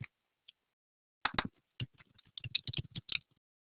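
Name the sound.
typing on computer keyboards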